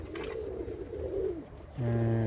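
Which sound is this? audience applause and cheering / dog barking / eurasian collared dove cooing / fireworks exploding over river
eurasian collared dove cooing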